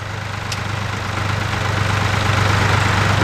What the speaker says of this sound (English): It's a good running Case tractor.